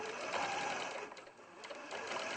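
A sewing machine stitches steadily up close, its rapid mechanical whir briefly slowing before resuming at pace.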